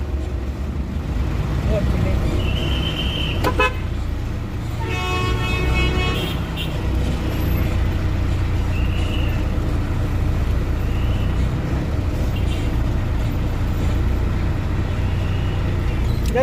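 Car horns toot in short repeated bursts amid heavy road traffic, with a constant loud engine and road rumble beneath and people talking nearby.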